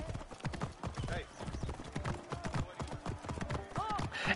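Horse hooves clip-clopping in a video game, a steady rhythmic run of hoof beats throughout, with voices talking over it.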